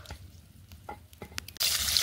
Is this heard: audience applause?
no